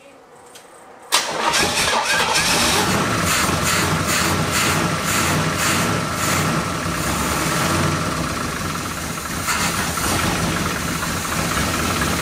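A muscle car engine left in storage for 33 years cranks over loudly and steadily after a short quiet lead-in, with a rough, continuous churn lasting the whole stretch and no voices.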